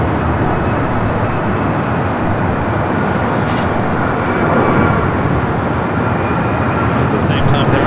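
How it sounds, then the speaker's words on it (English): An Air France jet, flight 23 to Paris, rolls down runway 24 left at LAX, a steady, dense engine roar holding at a constant level with a voice talking over it. "Air France, flight 23, heading back to Paris. Rolling down at 24 left."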